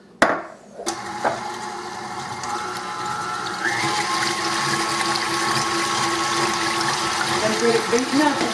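Whole milk being beaten into a chocolate eclair torte filling in a bowl, a steady continuous whirring mix that builds after a sharp knock at the start, with no talk.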